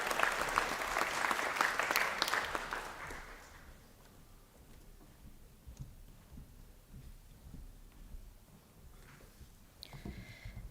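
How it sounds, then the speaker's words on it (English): Applause at an ATU graduation conferring ceremony, a loud burst from a large hall crowd that fades after about four seconds into quieter room murmur, with a few scattered claps later. "give a round of applause to"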